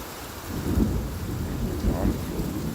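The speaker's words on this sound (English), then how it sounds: "It's a lot of rain" Heavy rain hisses steadily while low rolls of thunder swell twice, close and booming beneath the downpour, with no voices.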